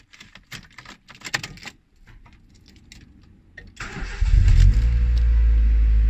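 A Honda Civic EJ9 engine cranks and catches after an oil change, then settles into a steady, loud idle, preceded by a few light clicks and rustles.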